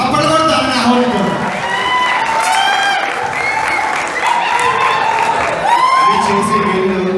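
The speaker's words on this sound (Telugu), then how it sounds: "ప్రతి ఒక్కరు చప్పట్లు కొడతాను ఆహ్వానించాను" Sustained applause and cheering from an audience at an anniversary stage event, loud and continuous, mixed with crowd shouts and voices over the clapping.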